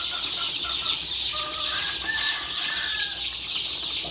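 A group of chickens cluck softly and continuously at close range while feeding, with a few higher chick peeps over a steady bright chatter.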